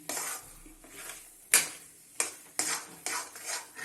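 Spoon strokes scrape and clink against a pan of moong dal halwa with ghee, close and steady, with several sharp metallic taps over a faint sizzle.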